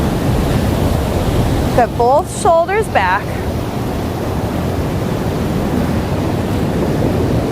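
Loud, strong ocean surf roars as a steady broadband wash through the whole stretch, with a person briefly speaking over it partway through.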